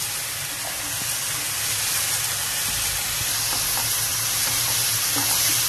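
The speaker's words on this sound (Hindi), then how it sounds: "इसमें हम अपना ये हरा मटर ऐड कर देंगे जिससे वो भी मसाले के साथ भूनता रहे" Masala and green peas frying in a pan for an egg masala curry, a continuous loud sizzle and hiss that stays steady throughout with faint stirring knocks underneath.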